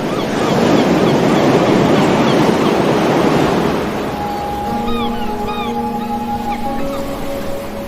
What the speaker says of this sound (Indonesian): aku mendengar lautan Hindia bergelora